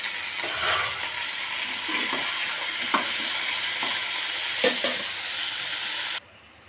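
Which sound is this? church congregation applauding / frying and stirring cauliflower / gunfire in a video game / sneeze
frying and stirring cauliflower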